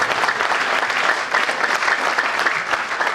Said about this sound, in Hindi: तालियां बजाइए, हाथ उठाकर बजाइए